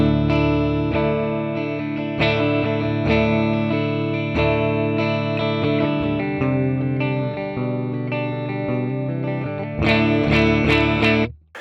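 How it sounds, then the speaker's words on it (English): Electric guitar played through a Joyo preamp house amp simulation pedal set to a Fender Twin tone with the gain raised, giving sustained ringing chords and single notes and ending with a few sharp strums before cutting off. "So on the Fender Twin sound, let's turn the gain up a little bit"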